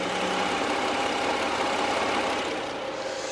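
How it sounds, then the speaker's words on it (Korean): An inline-six petrol car engine idles steadily nearby, a smooth continuous hum with a soft, even mechanical whir and no revving. "엔진 소음 먼저 들려드리면은"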